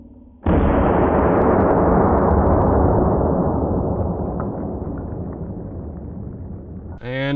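A shotgun firing number 4 buckshot, a popular home defense load, into house walls: one loud, sudden blast with a long decaying rumble that tails off over several seconds.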